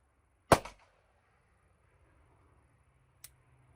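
One sharp, close gunshot from a Ruger Single Six .22 revolver rings out early with a short decaying tail, then a faint click follows in near silence, at a 25-meter range.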